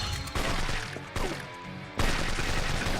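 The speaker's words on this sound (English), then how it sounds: "That dick's at the end of this with a fucking machine gun." Bursts of rapid machine gun fire from a Yakuza video game, loud and close, coming in three bands separated by brief drops, the last burst strongest.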